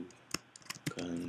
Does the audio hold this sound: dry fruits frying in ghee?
no